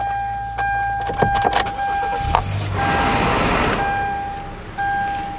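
A car starts up amid repeated dashboard chimes. The engine cranks briefly and catches, then settles into a steady hum heard from inside the cabin, with chime tones returning toward the end.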